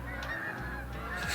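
Geese honk outdoors, several repeated calls at a moderate distance over a steady background drone, with no talking.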